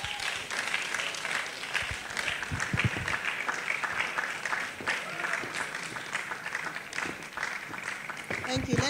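An audience at a career conference claps after a speaker, steady applause with voices talking over it and a few louder bumps near the microphone.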